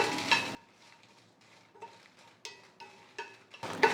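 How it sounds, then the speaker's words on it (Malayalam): Dried red chillies roast in a pan over a low flame, giving short scraping stirs and light clinks of the spoon against the metal between quiet gaps, close and fairly soft. "ഇട്ട് കൊടുക്കാം അപ്പോൾ ഇത് ഒന്ന് വറുത്തെടുക്കാം ലോ ഫ്ലെയിമിൽ വെക്കാം"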